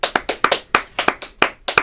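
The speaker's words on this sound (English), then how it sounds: "Let's give a round of applause to Mr." A few people clap unevenly in a school classroom setting, about a dozen sharp close hand claps with irregular spacing.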